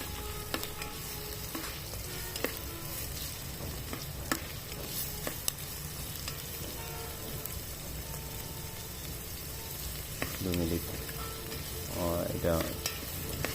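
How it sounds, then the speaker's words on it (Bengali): Onion and chilli frying in a rice cooker pot, a steady soft sizzle with occasional stirring scrapes, fairly quiet and close, with a brief louder bubbling burst near the end. "এটা পেঁয়াজটা আর মরিচটা ভেজে নেব"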